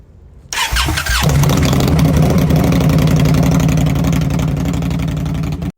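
An Indian motorcycle engine fires up after a brief starter whir, then settles into a loud, close, steady idle with a throbbing beat that runs to the end.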